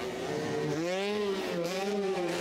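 A freestyle motocross motorcycle engine at an arena event drones and shifts pitch as the rider works the throttle, heard at a distance under a constant wash of crowd and ambient noise.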